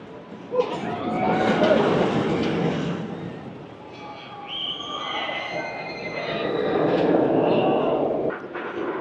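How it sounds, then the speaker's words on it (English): At an amusement park, a Coney Island Cyclone clone wooden roller coaster rumbles and clatters along its track with squealing wheels, a broad rushing roar that swells and fades as the train passes, with voices mixed in. "this is the Coney Island Cyclone clone wooden roller coaster"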